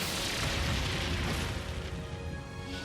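A Brionac weapon fires in Trails of Cold Steel 3, a heavy roaring blast with a deep rumbling low end that swells and then slowly thins into a washing, fading roar over a few seconds.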